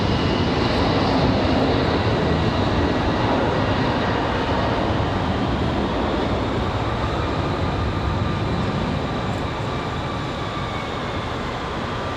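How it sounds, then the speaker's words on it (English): An Aer Lingus airliner departs from Raleigh-Durham, a steady, loud, broad engine roar holding close and even throughout before easing slightly toward the end, with no one talking. "a bit wobbly there on departure for Aer Lingus"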